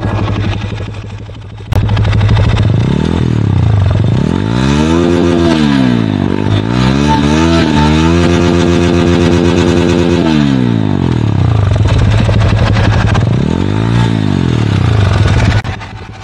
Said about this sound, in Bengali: আমি যদি এখন থ্রটল দিই তাহলে বুঝতে পারবেন যে আগের যে সাউন্ড কোয়ালিটি ছিল আর এখন যে সাউন্ড কোয়ালিটি কতটা পার্থক্য।